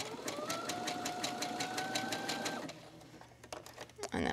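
A sewing machine stitches fabric scraps into gift tags, its rapid rhythmic needle whir close and steady, then it stops abruptly and is followed by a few quieter clicks and handling sounds.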